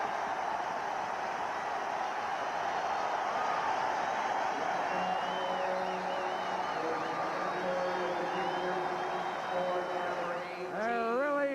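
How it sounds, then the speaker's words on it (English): Large hockey crowd at Chicago Stadium roaring and whooping in a sustained wash of cheering, swelling louder near the end with a rising organ-like or horn tone over the din. "Listen to this crowd at Chicago Stadium."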